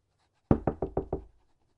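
Five firm knocks land on a wooden door in quick, slightly uneven succession, close and distinct against near silence.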